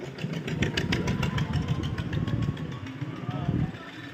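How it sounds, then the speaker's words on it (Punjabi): Motorcycle engines drone and rumble at the well-of-death show at the Chhapar fair in Ludhiana district, Punjab, a steady, busy roar with someone talking over it. "ਇੰਜਣਾਂ ਦੀਆਂ ਆਵਾਜ਼ਾਂ ਹੀ ਚੱਲਣਗੀਆਂ ਇੱਥੇ"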